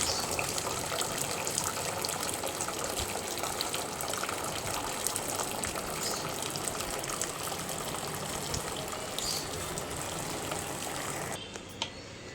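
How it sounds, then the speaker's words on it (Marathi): Water pouring off cooked rice for homemade chicken biryani, a steady close gushing stream that runs for several seconds and then drops off near the end. "आता भात शिजला आहे, त्यातलं पाणी काढून घ्यायचं आहे आपल्याला."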